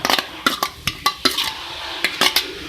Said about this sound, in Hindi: इसको मिक्स करेंगे।